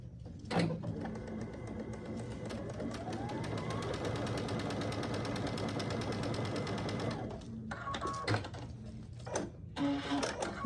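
Sewing machine stitching fabric binding on a pumpkin door hanger, a steady close, fast mechanical whir of needle strokes running for several seconds, then stopping with a few clicks and handling noises.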